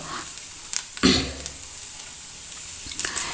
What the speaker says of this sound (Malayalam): ഇനി നല്ലോണം നമ്മളത് ചുവക്കെ വറുത്തെടുക്കണം കൈയെടുക്കാതെ ലോ ഫ്ലെയിമിൽ വേണം വറുത്തെടുക്കാൻ